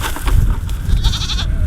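Sheep and goats in a farm pen, several close, loud bleats in quick succession over low rumbling and shuffling background noise.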